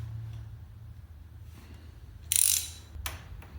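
A ratchet wrench loosening a spark plug on a BMW R nineT motorcycle during a service, heard as a quick burst of close metallic clicking, then a shorter second pass, over a low steady background hum.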